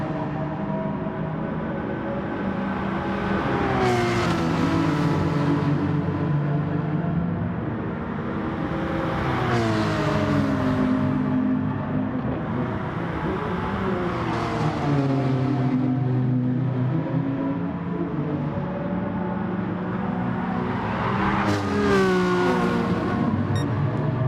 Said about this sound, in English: Angus driving really well here to just stick in Stuart Law's, S2 Law's slipstream and right on his back bumper